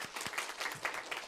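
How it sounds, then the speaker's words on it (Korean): A church congregation applauds its choir at a Korean elders' installation service, a brief burst of scattered, uneven hand claps with a few distinct sharp hits, heard alone and fairly close. "우리 찬양대를 위해서 우리 박수 한번 합시다."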